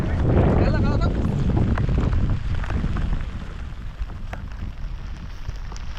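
Rain pours down hard, mixed with gusty wind buffeting close by, loudest at first and easing slightly toward the end.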